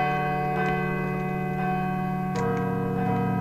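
Bell ringing in Call of Cthulhu: Dark Corners of the Earth, a sustained metallic tone with lingering overtones and a few soft struck accents, steady and moderately loud.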